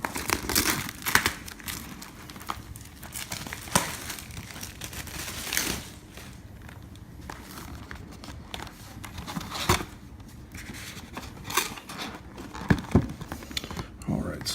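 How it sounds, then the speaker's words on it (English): Foil wrappers of 1991 Upper Deck baseball card packs crinkle and tear open in repeated bursts, close to the mic, with a person talking over much of it. "we're going to go ahead and rip into this box here and see what we get"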